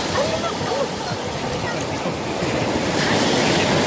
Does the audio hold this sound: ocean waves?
yes